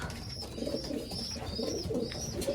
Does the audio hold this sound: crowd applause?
no